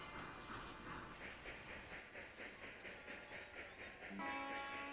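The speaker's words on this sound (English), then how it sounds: "We have a train about to hit Houston." Train sounds from the Railroad Tycoon 2 video game: a rhythmic, pulsing chug with rail clatter and hiss, fairly quiet, shifting to a brighter tone near the end.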